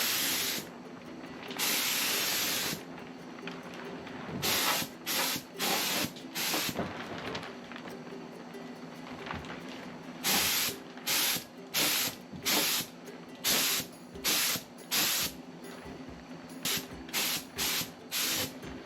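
A spray gun painting a 1987 Jeep Wrangler hisses in repeated bursts, with a long opening blast followed by a steady series of short, evenly spaced passes, close and loud.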